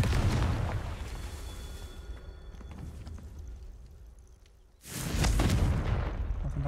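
A Confringo fire-blast spell goes off in Hogwarts Legacy on PS5, heard as a heavy booming burst that fades out, then a second loud rumbling explosion a few seconds later, with no talk.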